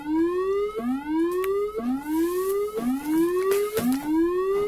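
A repeating electronic alarm from a HoloLens plant monitoring system: five rising sweep tones, each about a second long, cycling steadily, loud and close, with no voices.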